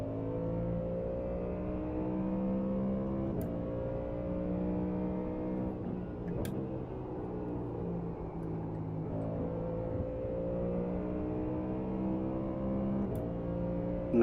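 A Lamborghini GT3 race car engine drones steadily at high revs at Spa in a racing video game, its pitch rising and falling slightly through gear changes with brief clicks.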